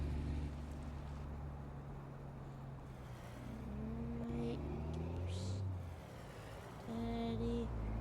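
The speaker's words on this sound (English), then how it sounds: "I'm gonna go around here and park the trailer." A farming video game vehicle hums with a steady engine drone while towing a trailer into a parking spot, its pitch rising and falling slightly as it drives, with faint tonal game sounds over it.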